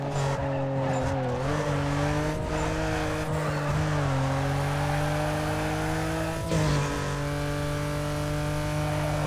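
A Mazda RX-7 races in Need for Speed Carbon, its engine droning loud and continuous with pitch rising and dipping through gear changes, plus intermittent tire squeal and skidding.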